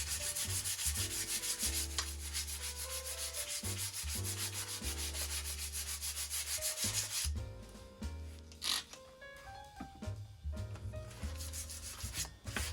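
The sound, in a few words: scuffing the back of a bike fork before painting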